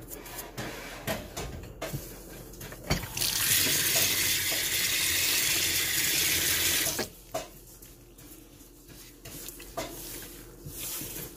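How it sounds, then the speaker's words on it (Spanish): Water pours from a tap into a pot while tamales are cooked with chicken consommé, a steady bright rush lasting about four seconds between clattering kitchen sounds and stirring. "Echamos un poquito de agua."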